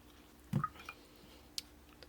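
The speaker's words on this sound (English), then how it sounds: "So we'll just dab a little water on all the paints here." A brush dabbing a little water onto a set of travel paints, with a soft wet squish up close, a second small dab after, then a light tap and faint drip in a quiet room.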